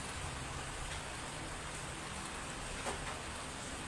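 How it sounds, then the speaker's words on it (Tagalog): Steady rain patters on a surface, a constant hiss of falling drops with no voices. "Umuulan kasi"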